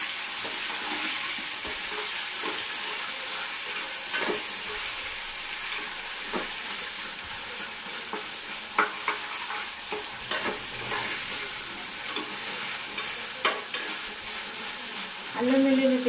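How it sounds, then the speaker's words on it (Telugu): Chopped mixed vegetables with ginger garlic paste fry and sizzle steadily in a pan for a masala curry, with scattered scrapes and knocks of stirring throughout. "ముక్కలు కొద్దిగా మగ్గిన తర్వాత దీనిలో అల్లం వెల్లుల్లి పేస్ట్ వేసుకోవాలి."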